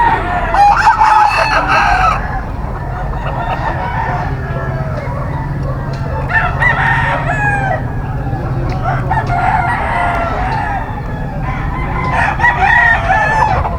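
Stag rooster of ball stag brass back gamefowl crowing repeatedly at a busy market, several loud calls over a steady crowd murmur and nearby voices.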